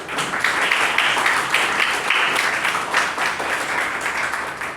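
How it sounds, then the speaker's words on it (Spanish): Audience applause at a university medicine debate, a steady wash of clapping that fills the whole stretch at moderate loudness with no talk over it. "Un gran aplauso para todos"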